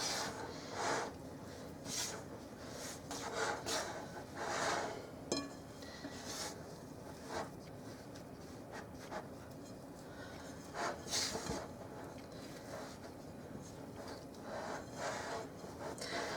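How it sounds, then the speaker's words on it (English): A spatula mixes whole wheat no-knead bread dough in a bowl, giving soft, faint, repeated scraping and rubbing strokes at close range with no voices. "Now you can mix this with your hands, of course, if you want. I'm just using my spatula."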